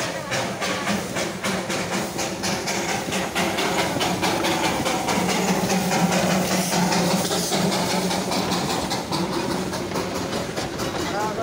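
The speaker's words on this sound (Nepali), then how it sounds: "ले हेर्नुहोस् है दार्जिलिङ कर रेल आयो चिप चिप चिप चिप गर्दै" Darjeeling toy train arriving at Ghoom rail station, a steady rumbling chug with hissing and rhythmic clatter that runs throughout, with voices talking over it on the platform.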